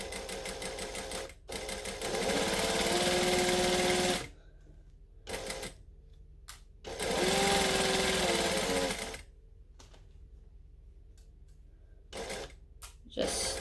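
Domestic sewing machine stitching fabric for a Butterick B6764 garment, running in two long steady whirring bursts with short stop-start runs and pauses between, close and loud.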